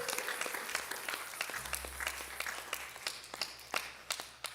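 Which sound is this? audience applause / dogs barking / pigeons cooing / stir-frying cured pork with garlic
audience applause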